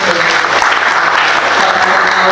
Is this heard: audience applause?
yes